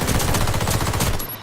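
Rapid automatic gunfire rattles loudly in a video game, a fast, evenly spaced burst of shots that carries on for over a second before cutting off.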